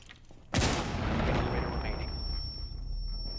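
A grenade blast in a video game goes off with a sudden heavy boom, then a long rumbling roar and debris wash that lingers, with a faint high ringing tone sustained afterward.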